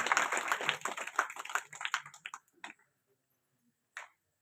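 A village audience applauds during a religious discourse in Madanahalli. A burst of dense clapping thins out and fades into silence, and one last clap comes near the end.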